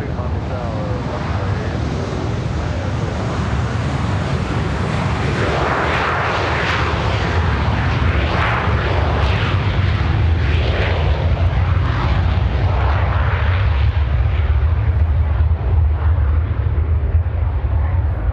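A McDonnell Douglas MD-83 airliner takes off and climbs, a loud, sustained jet roar that swells and rumbles for the whole stretch with wind buffeting the microphone and a voice speaking underneath.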